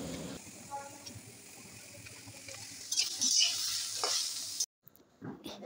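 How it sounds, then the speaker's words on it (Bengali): Vegetables for a Bengali niramish chorchori (beans, spinach, bottle-gourd greens, radish, cauliflower stems) fry and are stirred in a pan, giving a steady close sizzle with scraping strokes; a short break comes near the end. "সবজিগুলো একটু ভেজে নিতে হবে"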